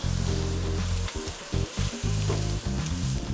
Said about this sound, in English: We'll just put it on the grill. Firing up immediately.